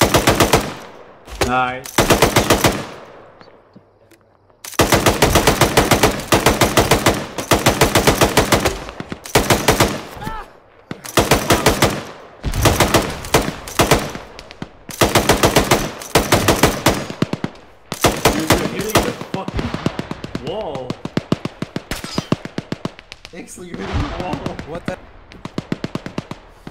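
A side-mounted machine gun fires in the military shooter game ArmA 3, loud long bursts of rapid gunfire separated by short pauses, with brief talk from players in between.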